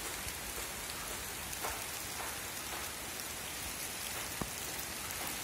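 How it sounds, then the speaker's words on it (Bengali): Steady rain pours down over open ground at a prospective farm site, a dense, even hiss of drops striking surfaces nearby with scattered sharper splats and no voices. "রহমতের বৃষ্টি পড়তেছে"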